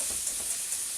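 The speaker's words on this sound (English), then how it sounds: "the meat is browning off quite nicely" Ground meat and pork sausage fry in a pan with a steady, close sizzle and faint crackle that holds even throughout the short moment, with no voice over it.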